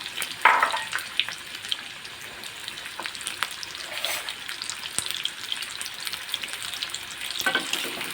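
Chopped onion hitting hot oil in a pan, crackling and sizzling steadily up close with scattered pops and a few stirring scrapes, no voices.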